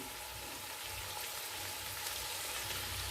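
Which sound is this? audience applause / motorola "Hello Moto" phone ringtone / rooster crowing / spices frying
spices frying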